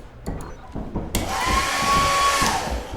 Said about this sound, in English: I found a hairdryer.